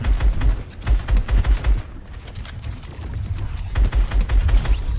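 Rapid bursts of shotgun fire in the video game Fortnite, loud and close, with clustered blasts near the start and again toward the end and busy game noise between them.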